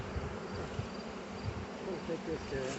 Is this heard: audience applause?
no